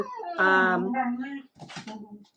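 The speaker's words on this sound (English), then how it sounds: "dogs are fighting" Dogs fighting nearby produce a brief, loud burst of howling whines and yelping cries, with a short break before a second, harsher flurry.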